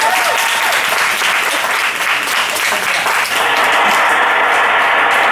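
Audience applause fills the room at a comedy show, a dense, steady wash of many hands clapping for about five seconds, loud and sustained without letting up.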